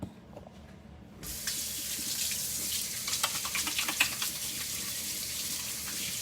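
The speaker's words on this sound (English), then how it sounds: "I'm gonna wash my hands real quick." Water runs from a faucet into a sink as hands are washed, starting after a quiet second and then a steady close rush with brief splashes and spatters.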